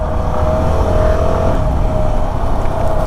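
A Keeway K300N motorcycle engine runs with a steady, sustained drone and a constant tone, loud and close, with no pauses or talking.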